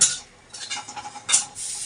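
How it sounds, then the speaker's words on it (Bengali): Short sizzles and a spoon clinking against a metal pan as cumin, bay leaf and dried red chilli hit hot oil for tempering dal, in quick bursts. "এখন এই যে ফোড়ন দেবো ডালে জিরা তেজপাতা আর শুকনো লঙ্কা"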